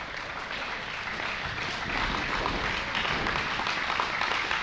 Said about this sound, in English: Round of applause for 2 awesome debuting athletes here in IWC.